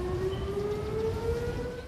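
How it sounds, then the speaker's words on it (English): An emergency civil defense siren in Guam sounds unscheduled near a senior citizen center and marina, a steady wailing tone heard alone at moderate distance, slowly drifting in pitch. "the emergency sirens going off unscheduled at the Hoggett Senior Citizen Center and Marina today"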